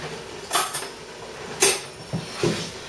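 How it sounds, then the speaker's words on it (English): Black beans are mashed with a fork in a pan, giving a few scattered metallic clinks and scrapes, moderately close and spaced irregularly. "I'm going to mash mine up with a fork."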